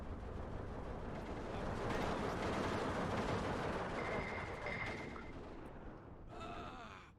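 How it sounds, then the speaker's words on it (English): Artillery fire in the video game Steel Division 2, heard as a dense, loud, continuous roar of booming blasts and rumble that holds for several seconds before thinning out. "here comes the artillery fire"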